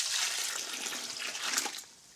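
Water poured onto strained used kitty litter to turn it into clay gives a steady, close splashing rush that fades out near the end.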